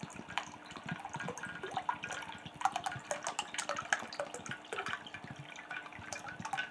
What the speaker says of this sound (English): Let's get some cold water into that.